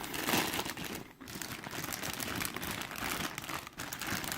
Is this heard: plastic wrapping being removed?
yes